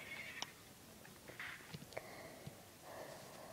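A horse in the video game Survival Craft neighs and whinnies faintly a few times over quiet game ambience, with soft snorts and light hoof sounds between calls.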